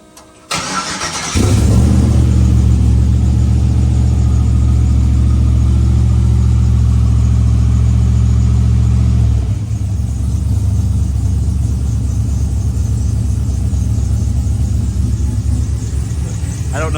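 A car engine idling steadily with a persistent belt squeal after an oil pump pickup O-ring repair, starting up and then running loud and close for the whole stretch, with a steady rumbling drone and no clear talk.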